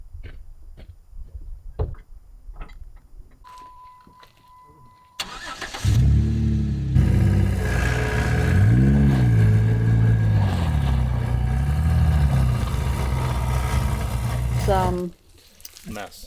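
A truck towing a trailer starts its engine and revs hard, straining on ice and mud for about ten seconds before cutting off. Quieter clicks and shuffling come before it, and short talk comes after.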